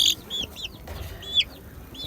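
Several roosters clucking and squawking up close in short repeated calls, with light rustling in the background.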